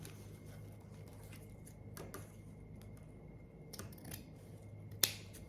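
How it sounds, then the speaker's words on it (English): Scissors cut the tails of a decorative ribbon bow in a few quiet, separate snips spread across several seconds, with a sharper click near the end and no talking. "I'm going to go ahead and cut them while I have the bow off of this little thing."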